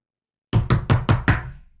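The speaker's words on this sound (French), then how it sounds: "on frappe à votre porte" Five sharp knocks on a door in quick succession, loud and close, each with a short resonant thud, alone after silence.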